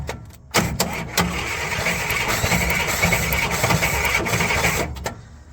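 A 1955 Buick Roadmaster engine cranks and tries to catch, giving a steady rough churning roar for about five seconds between brief pauses at start and end, close and fairly loud with no voices.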